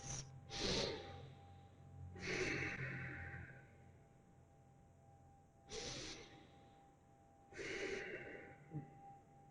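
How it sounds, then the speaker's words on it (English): Deep, slow breaths during a seated yoga twist in a Hatha class, four long inhale-exhale cycles drawn audibly through the nose and mouth, close and fairly loud with quiet pauses between them. "Same deep breaths."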